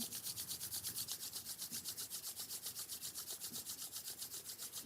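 Palms rub briskly back and forth in a steady, even rhythm of about five strokes per second, a close, dry swishing friction with no voices over it.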